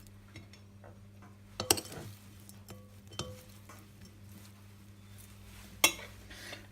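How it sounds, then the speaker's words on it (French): Cuttlefish strips go into a seasoned vinaigrette mixture in a bowl, heard as a few sharp clinks of utensil on the bowl and soft stirring, close by with quiet pauses between. "Je vais y ajouter mes sèches, les lamelles de sèche"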